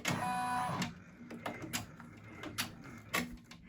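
Multi-needle embroidery machine stitching a name onto a Christmas stocking, rapid mechanical whirring with a starting whine followed by rhythmic clattering pulses, close and alone.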